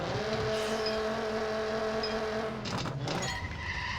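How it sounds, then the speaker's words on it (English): A race car engine over-revs in the racing video game Need for Speed No Limits, a sustained high-pitched whine with strong harmonic tones that wavers and briefly breaks up toward the end, with no talking. "Over revved it."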